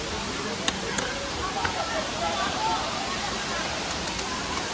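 Constant roaring wash of a waterfall, loud and close, with a few faint clicks and sharp knocks scattered through.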